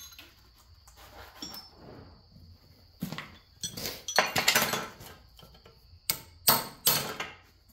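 Chisels are hammered into a 100 lb electric transformer, giving a series of sharp metallic strikes in uneven bursts, close and fairly loud, with a faint steady whine underneath and no talk.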